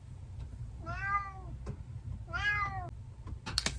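A cat meows twice indoors, two drawn-out, clear, fairly close calls with a short gap between them, over a low background hum and a few light taps at the end.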